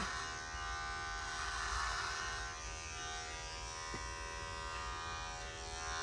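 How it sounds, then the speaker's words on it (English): Electric hair clipper cutting a men's faux hawk flat across the top, a steady close buzzing hum that runs without a break, with no talk. "I'm gonna come straight across with my clipper and cut it flat"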